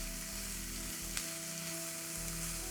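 Bacon sizzles steadily in a frying pan for a breakfast casserole, a soft, even crackle heard close up with one brief click partway through and no talking.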